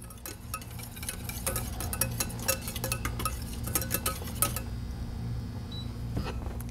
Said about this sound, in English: And just quickly stir this around.